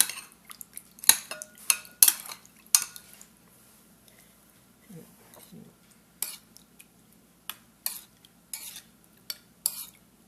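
Utensil stirring and mixing Khao Leng Feun with cilantro and sauce in a dish: scattered close clinks and scrapes against the bowl in irregular bursts, with quieter soft squelching stretches between, no talking.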